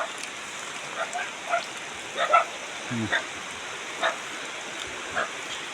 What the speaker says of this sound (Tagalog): Gaulan.